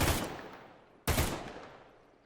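Two loud bursts of gunfire from the Arma 3 video game, each sharp attack trailing into a long fading echo, about one second apart, with no voices.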